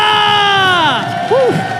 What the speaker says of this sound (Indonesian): Velodrome, mana tepuk tangannya?